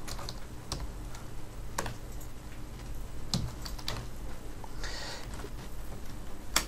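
Typing an email address on a computer keyboard, with irregular clusters of light key taps over a steady hum, close and fairly quiet with no speech.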